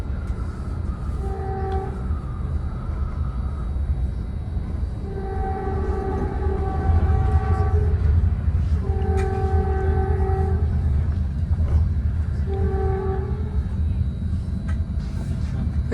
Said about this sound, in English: That's the first northbound express train of the evening